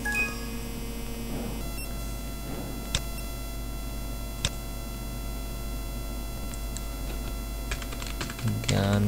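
Quick, light keystrokes on a computer keyboard as a website address is typed, a steady run of clicks under a constant electrical hum, with a few brighter taps standing out.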